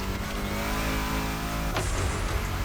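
A race car engine in a video game revs hard and steady with a whining, spinning tone of wheelspin at the start, a brief sharp shift near the end, loud and continuous with no talking.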